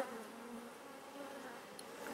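A steady, close insect hum of many honey bees buzzing around their hive, continuous and even throughout with no voices.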